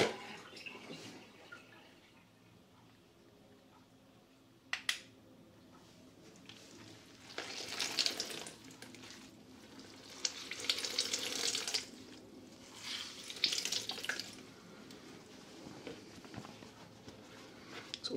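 Water wrung from a Lifeventure trek towel patters and splashes in quiet, uneven bursts, with soft drips and a few louder gushes spread across the stretch, fairly close and faint overall.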